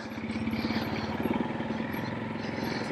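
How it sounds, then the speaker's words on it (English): Motorcycles rumbling nearby in exhaust pipe alley, a steady throbbing engine beat with light clatter holding at even loudness throughout, without voices. "Motorcycles everywhere today,"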